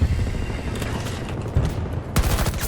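Rapid bursts of automatic gunfire crack and rattle in Battlefield 2042, loud and close, with short pauses between volleys and a heavier blast near the end.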